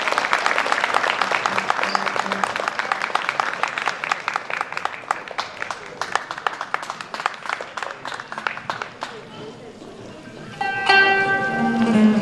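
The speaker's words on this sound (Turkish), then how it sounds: "Büyük bir alkış" A concert audience at a traditional folk music evening in Diyarbakır claps for several seconds, the applause thinning out before a voice and instruments take over near the end.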